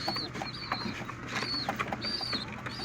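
A homing pigeon back in its loft coos softly in repeated short calls, fairly close, against a quiet background with faint rustling.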